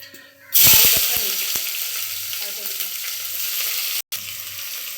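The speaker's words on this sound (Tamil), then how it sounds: "வெங்காயம் நல்லா வதங்கிடுச்சு" Onions with cardamom, cinnamon and bay leaf for chicken biryani hit a hot pan and break into a loud, steady sizzle, with a few clinks of a spoon stirring, close up and with no speech.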